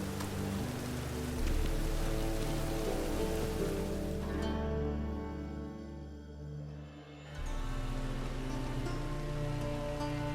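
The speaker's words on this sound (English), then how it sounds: "Looks like rain." Steady hiss of rain falling in a video game, with a low droning ambience underneath and a brief quieter dip midway.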